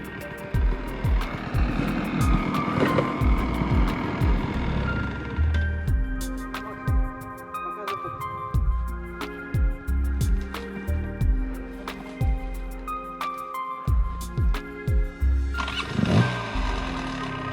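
A motorcycle engine with a Lectron carburetor runs close by, with rapid popping exhaust pulses and revs rising and falling, sputtering unevenly at times.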